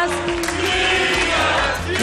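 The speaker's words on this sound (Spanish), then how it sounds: "Aplauso para ese padrino" A crowd at a Nava vs Infiesto event cheers and applauds loudly and steadily for two seconds, a dense continuous roar of hands and voices.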